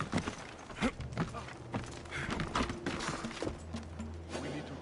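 Horse hooves in Assassin's Creed Odyssey, irregular clopping hits of moderate loudness mixed with a low rumble and scattered game noises.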